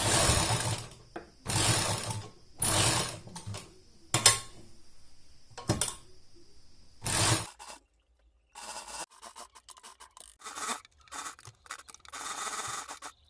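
A sewing machine stitches a newborn baby's pajama seam with a half-inch margin, in several bursts of close, steady whirring separated by pauses, with softer rubbing and handling noises of the cloth later on.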